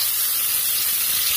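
Onions sizzle in hot oil with spices in a pan, a loud, steady frying hiss that holds evenly from start to finish with no voice over it.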